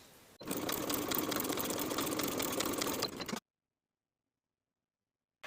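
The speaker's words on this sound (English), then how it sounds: "we'll also edge stitch along the top folded edge" Sewing machine running steadily at close range for about three seconds while edge stitching along the top folded edge of a weekender bag, then stopping abruptly into silence.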